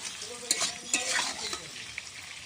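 Food fries and sizzles in a pan while a utensil stirs it, with a few sharp scrapes and clinks of the spoon against the pan over a soft continuous sizzle, close and fairly quiet, without speech.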